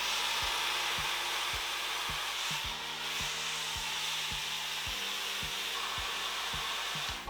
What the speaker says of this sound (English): It does dry very fast, this dryer.